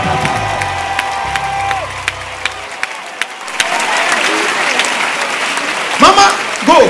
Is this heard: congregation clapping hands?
yes